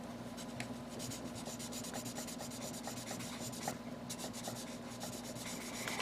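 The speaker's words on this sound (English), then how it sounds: "400 grit sanding paper." Fine 400 grit sandpaper rubs over small plastic Gundam model parts in quick, steady back-and-forth strokes, a soft continuous rasping close by, with a low hum running underneath and no talking.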